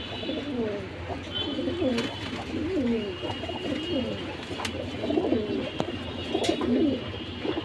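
Pigeons coo repeatedly in low rolling phrases, one of them a male cobra pigeon near and clear, among red-bar double-bordered birds in a loft, with a faint voice and occasional clicks in the background.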